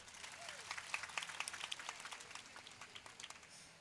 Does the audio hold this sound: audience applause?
yes